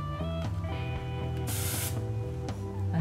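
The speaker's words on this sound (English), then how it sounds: "Okay, I'm gonna put the hairspray." Hairspray hisses from an aerosol can onto a bride's wedding hairstyle in one sustained burst of about half a second, close and loud over soft background music.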